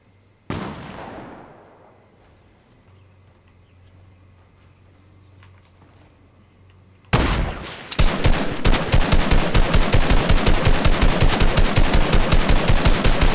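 Rapid automatic gunfire in the Fortnite battle royale video game, a single sharp shot early on, then after a quiet stretch a loud, sustained run of evenly spaced bursts, with no talking.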